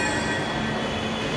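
A metro train in India pulls in with a steady, loud rumble of rolling wheels and a thin high-pitched wheel squeal, close by and continuous with no talking.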